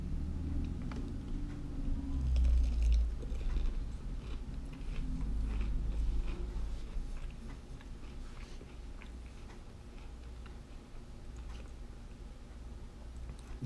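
Mac n' Cheetos snacks, crisp outside and creamy inside, crunched and chewed close to the mouth in repeated bites, fairly quiet and alone with no talk.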